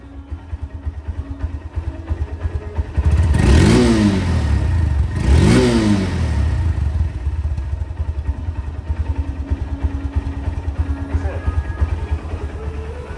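A second-hand Honda CB Hornet double-disc motorcycle idles with a steady low chug, revs twice in a row, then settles back to idling; nearby and fairly loud.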